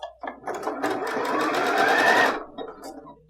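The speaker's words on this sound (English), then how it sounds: "So I'm gonna go ahead and start sewing." A sewing machine stitches around a fabric scrunchie with a 3/8 inch seam, running in one steady, close whirring burst of about two seconds after a brief start, then stopping.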